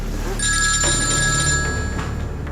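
A telephone rings loudly and steadily in an indoor scene, its electronic bell tone sustained for over a second over a low background rumble, with no talking.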